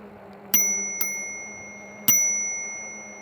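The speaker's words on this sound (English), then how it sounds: "let's give them the bell here" Bicycle bell on an Engwe E26 e-bike rung three times, two quick bright dings then a pause and a third, each ringing out clearly and decaying over a faint background hum.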